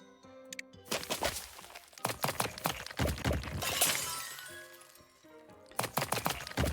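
Glass shattering and breaking apart in the cleaning game Trash Goblin, a run of sharp cracks and clinks layered over an ongoing musical backing, loud and close with a brief quiet dip before more breaks.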